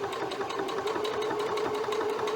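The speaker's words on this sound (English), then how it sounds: "I'm gonna try and make a nice little neat hole over here with the sewing machine" A sewing machine runs continuously while punching a hole in a reborn doll, giving a steady rapid mechanical whirring and ticking, close and even throughout.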